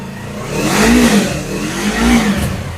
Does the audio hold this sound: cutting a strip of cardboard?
no